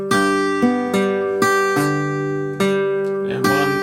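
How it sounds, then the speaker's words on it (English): Guitar picking a bass line, about eight plucked bass notes in a steady rhythm, each ringing and decaying, solo and close. "and then for 3 and 4 we just carry on with a bass line."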